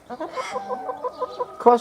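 Hens, likely Wyandotte and Australorp crosses, cluck close by in a garden in a quick, uneven series of short calls, ending with a louder squawk.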